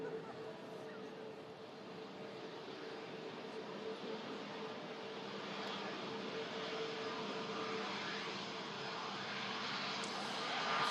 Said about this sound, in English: arriving in with us here at Manchester, just about to take the exit right in front of us at the Manchester Airport Runway Visitor Park